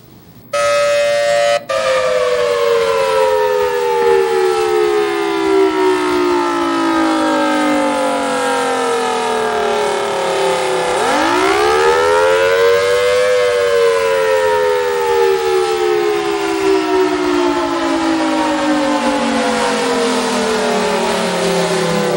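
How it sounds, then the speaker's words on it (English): A loud air raid siren in attack mode winds up, then its wailing pitch falls, surges back up and slowly sinks again in a long rise-and-fall cycle. "the attack mode has that classic rise and fall, traditional of an air raid siren"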